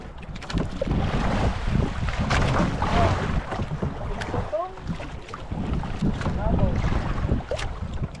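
Strong wind buffets a small boat on a shallow stretch with a fast current, a steady broadband roar of gusts and water noise running throughout, with faint scattered voices underneath.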